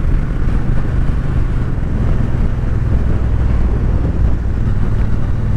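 Strong outdoor wind buffets the microphone in a loud, continuous low roar that never lets up, with no talking.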